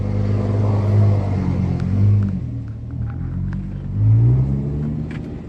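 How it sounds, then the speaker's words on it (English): A Lamborghini Gallardo LP-560 engine heard from inside the car while driving, a deep, loud, continuous rumble that swells and eases in several waves of revving. "going for the drive now, so you all can enjoy, you know, what it's like to be in a Gallardo."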